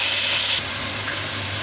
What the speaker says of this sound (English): whilst that's sizzling and browning